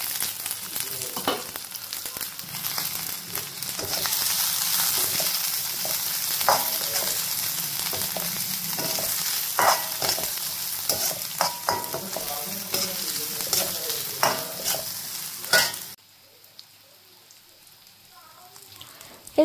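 Chili, onion and capsicum fry in a pan for restaurant-style chicken chilli, giving a continuous close sizzle with stirring scrapes and taps that stop abruptly near the end and leave near silence.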